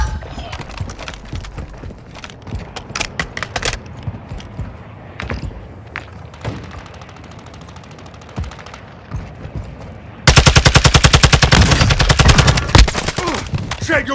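Gunfire crackles in Call of Duty: Warzone 2, scattered shots and short bursts at varying distance, then a loud sustained automatic volley close by near the end, with footsteps and other game sounds between.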